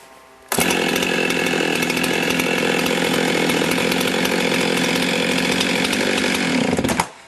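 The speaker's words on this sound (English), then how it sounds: "I turn on the saw and I pull the rope." A chainsaw's engine catches after a rope pull and runs loud and steady at high revs for about six seconds, then cuts off abruptly, heard close with no talk.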